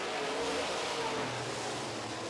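Modified race cars roar around a track during a feature race, a loud, continuous engine drone near the finish with some faint talking underneath.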